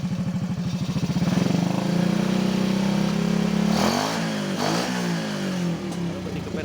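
An old Honda Supra motorcycle engine revs up from a pulsing idle to a steady, loud drone, with the pitch rising and dipping as the throttle is blipped repeatedly up close.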